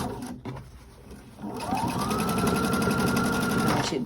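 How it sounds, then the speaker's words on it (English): A sewing machine stitches down the seam of a side pocket on a pair of pants. After a quiet start it runs in one steady, close, rapid whirring run of about two and a half seconds, with no voice. "You're just stitching the seam down to keep it in place."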